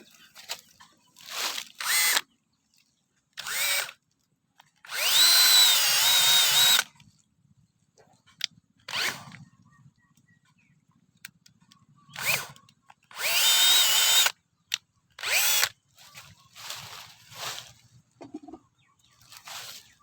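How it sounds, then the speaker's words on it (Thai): A power drill whines loudly in two sustained bursts while boring into a tree trunk, separated by shorter revs, clicks and quiet gaps, close by. "นี่จะเจาะแล้วครับ เจาะเลย"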